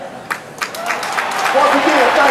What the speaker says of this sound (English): So y'all give him a round of applause for that.